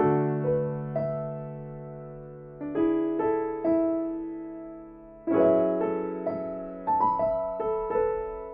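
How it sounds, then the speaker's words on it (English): Soft, mellow vintage grand piano software instrument playing gentle chords and a simple melody, with notes ringing and decaying between phrases in a warm tone. "it's called Grand Piano, and it sounds like this"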